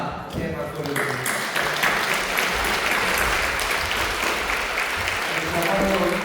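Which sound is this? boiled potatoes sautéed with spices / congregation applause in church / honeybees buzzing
congregation applause in church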